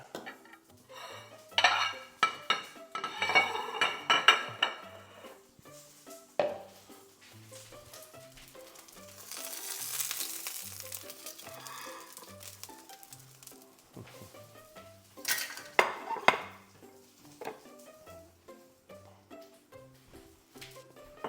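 Plates set down on a counter and cutlery clinking against them in a quick series of close ceramic knocks and metallic rattles, followed by softer shuffling and a few more clatters.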